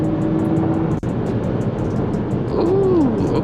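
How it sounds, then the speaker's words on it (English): A 2023 Lexus ES 350 with an 8-speed automatic pulls in 5th gear from inside the cabin, a quiet, steady engine hum under road and wind noise with a rising tone near the end. "5th gear pull."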